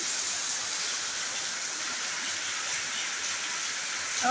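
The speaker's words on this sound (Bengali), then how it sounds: "সকালবেলা বৃষ্টি শুরু হয়েছে সে বৃষ্টি হচ্ছে" Morning rain falls steadily in a constant, even hiss, a dense wash of sound with no breaks or voices.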